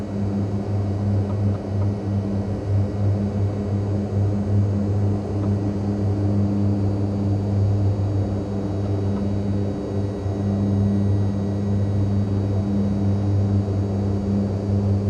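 A Skyvan propeller aircraft in Microsoft Flight Simulator 2020 drones steadily in flight, with a loud, even engine and propeller hum holding level throughout and no talk.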